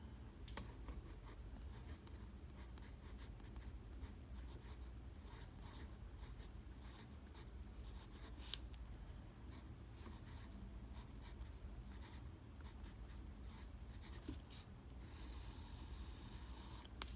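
A pen or marker writes a label on watercolor artwork, producing faint, close scratching strokes under steady background hiss, with a few soft taps along the way.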